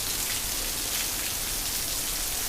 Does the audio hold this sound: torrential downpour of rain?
yes